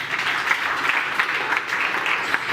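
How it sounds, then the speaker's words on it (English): An audience at a climate hackathon event in Bratislava applauds with steady, dense clapping that holds at an even level for the whole moment, with no voices. "And you can keep clapping"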